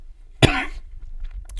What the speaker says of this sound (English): I have that cough still.